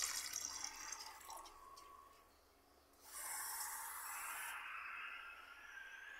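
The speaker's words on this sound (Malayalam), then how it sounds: "നന്നായിട്ട് വേകാനുള്ള വെള്ളം നമ്മൾ ഒഴിക്കുകയാണ്." Water pours into a cooking pot holding green chillies and onions for a bilimbi curry, a quiet trickle followed by a louder rushing splash lasting a couple of seconds, then a softer fill.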